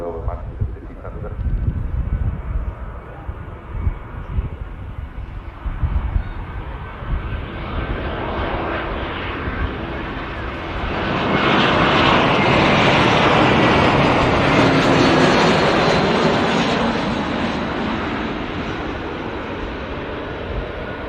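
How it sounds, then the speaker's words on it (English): Lufthansa airliner arriving from Frankfurt and landing at Manchester Airport, its engine roar building from a distant rumble to a loud broad whoosh as it passes near, then slowly fading. "Lufthansa next to land, arriving in from Frankfurt"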